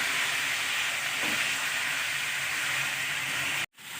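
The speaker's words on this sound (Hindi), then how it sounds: "और चिकन को भी अच्छी तरह से फ्राई कर लेते हैं।" Chicken fries in a pan with a loud, continuous close-up hiss of sizzling oil, cutting off briefly near the end.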